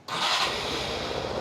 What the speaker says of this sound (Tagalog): Sa sound check natin para marinig ninyo yung tunog ng Suzuki Access